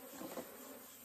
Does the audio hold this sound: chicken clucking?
no